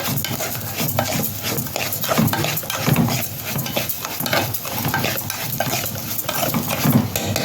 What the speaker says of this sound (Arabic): نقلب البصل كده على طول